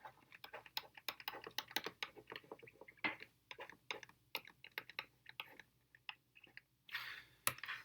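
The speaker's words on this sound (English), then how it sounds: "Type that into our calculator." Fingers tap numbers into a calculator while working an exponential decay problem, producing irregular bursts of light plastic key clicks, close and fairly quiet, with brief pauses between entries.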